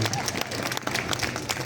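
Outdoor crowd applauding the mayor at the Befana festival closing celebrations in Adria, Italy, with a bonfire: a short, steady patter of clapping from many hands, with a voice speaking over it.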